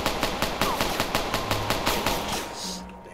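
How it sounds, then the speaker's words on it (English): Rapid bursts of gunfire from a Roblox hood game set in the Bronx, a steady rhythmic string of shots at moderate loudness, with no talking over them. "I'm letting some shots off, but I ain't hitting nothing"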